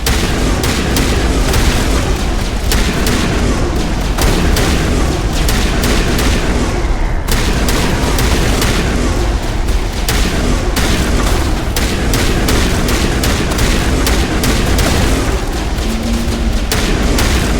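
Heavy combat in Mass Effect Legendary Edition: dense, nonstop gunfire mixed with booming explosions, loud and close throughout with no letup.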